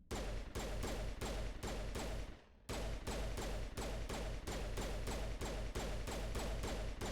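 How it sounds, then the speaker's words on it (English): Rapid pistol fire in a video game, a steady run of evenly spaced, crisp shots at a fast, regular rhythm with one brief pause, loud and alone. "This is my natural rate of fire with this pistol."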